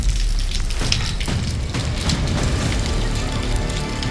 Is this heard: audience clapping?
no